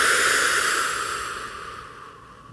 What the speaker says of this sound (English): So cleansing breath sounds like this.